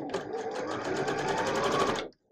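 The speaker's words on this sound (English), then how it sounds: "I am going to sew a quarter inch between those two spots." Domestic sewing machine stitching a quarter-inch seam on a star quilt block, a fast steady needle rattle lasting about two seconds before stopping abruptly, close and clear.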